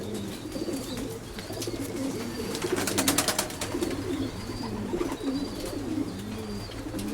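A white-flighted male racing pigeon coos in repeated low, rolling phrases close by, with a brief flutter of rustling partway through.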